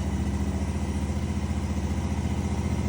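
A Gravely zero-turn mower's engine runs at a steady idle, a continuous low rumbling throb with an even mechanical beat, close by and loud, with no talking over it.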